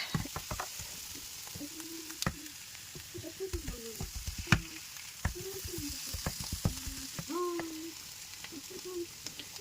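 Soaked soya chunks tumble into a hot oiled pan and sizzle steadily, with a run of clicking stirring strokes over a continuous frying hiss.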